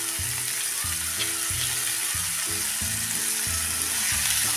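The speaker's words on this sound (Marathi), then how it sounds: "आणि फ्लावर चांगला परतूया।" Cauliflower florets sautéing in a hot pan with garlic and green chilli, a loud continuous sizzle with repeated scraping stirs from a spatula, close up.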